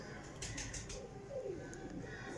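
Golden pigeons kept in a loft softly cooing, low throaty calls faint against background noise, with a few brief higher bird sounds and flutters nearby.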